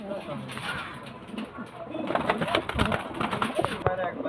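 A pair of pigeons coo softly in low, rolling calls while someone talks over them nearby, the cooing mostly sitting beneath the voice.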